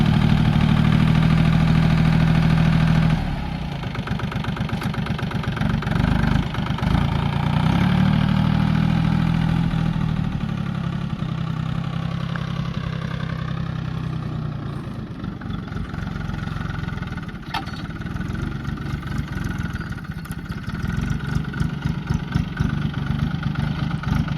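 A Powertrac Euro G-28 4WD mini tractor's diesel engine chugs steadily at low speed in low first gear, a loud, continuous rumble close by with slight changes in pace.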